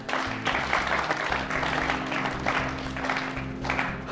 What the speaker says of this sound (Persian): دوستا تشویق بکنیم.